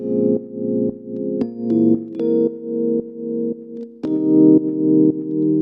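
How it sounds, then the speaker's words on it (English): Keyboard chords from a sample, layered with a copy an octave lower for a thicker, deeper tone, shift through four chords with short breaks between them, loud and without other instruments. "what I did with those 4 chords is I copied and pasted it an octave lower."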